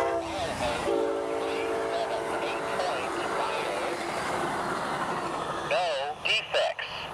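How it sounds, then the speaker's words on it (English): An Amtrak Palmetto passenger train heads north from Charleston to New York City through Goose Creek in Berkeley County, South Carolina, with a loud, steady horn and rolling rail rumble. Wavering horn blasts close out the pass. "the northbound Palmetto headed from Charleston to New York City"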